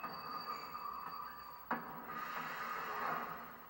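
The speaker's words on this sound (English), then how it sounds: "The magical train has arrived." Magical train in the video game Kingdom Hearts 2 arriving, a steady mechanical rumble with a sharp clank partway through, then a swelling hiss as it settles, moderately quiet and with no voices.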